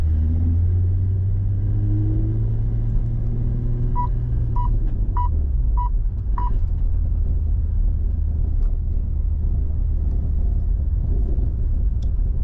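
A manual-transmission car engine revs with too much gas while driving slowly, a low steady rumble rising and falling in pitch, with a few faint beeps in between.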